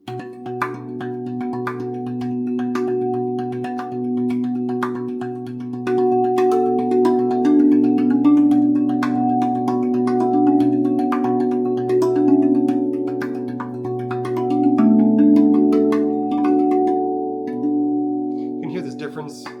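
A RAV Vast steel tongue drum struck on its side instead of the rib, ringing sustained overlapping tones with a softer attack, played continuously at close range with no talking.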